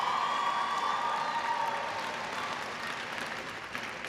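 Sustained applause from a 2019 commencement graduating class, a dense, even clapping crowd that stays loud and slowly tapers off, with faint cheering mixed in.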